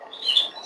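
A single short, high chirp from a canary rings out close by inside an indoor birdroom, loud and clear against a quiet background.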